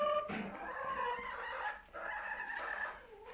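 Hens cluck and warble inside a hen house, a close, busy mix of overlapping chicken calls with a longer drawn-out crow-like note, fairly quiet overall and no talk.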